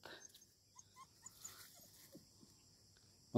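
A puppy gives a few soft, faint whimpers and small squeaks scattered across a quiet outdoor scene, ending with a louder close thump.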